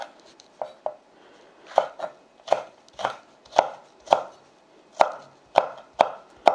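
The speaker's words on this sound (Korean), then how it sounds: "고추를 썰어 보겠습니다" Knife slicing chili peppers on a cutting board, a run of crisp, evenly spaced chops that grow a little quicker and more regular, close and clear with nothing else heard.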